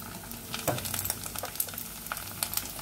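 Pieces of dried fish fry in hot oil, giving a close, steady sizzle with scattered sharp crackles and pops throughout.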